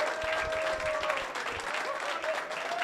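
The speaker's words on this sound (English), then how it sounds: "Can we get a round of applause?" Audience applause after the 2024 Premier League Pool final between Ko Pin Yi and Shane Van Boening, a steady patter of clapping heard at moderate distance with some voices mixed in.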